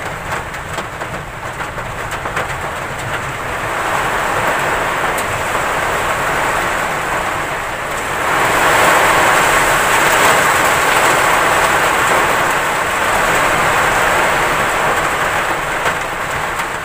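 A steady roaring wash of strong storm wind gusts and rain builds and surges midway, strong and close, with low thunder rumbling throughout and no voices.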